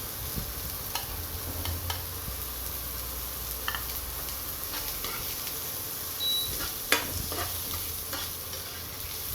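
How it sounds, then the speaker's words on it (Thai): Oil sizzles steadily as chili, garlic and lemongrass are stir-fried, with occasional sharp scrapes and clicks of a utensil against the pan; no voices. "ลงไปผัดในน้ำมัน ให้เกิดกลิ่นหอมนะครับ"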